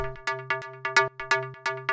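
An FM pluck synth made from two sine waves, with echo repeating in eighth notes, pulses in a steady rhythmic pattern of bright, decaying plucks over a held low note, with no voices.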